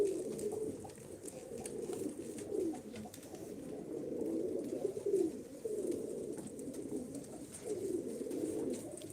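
Pigeons coo softly and continuously inside a loft, a low rolling chorus of several birds overlapping at moderate distance, with no voices.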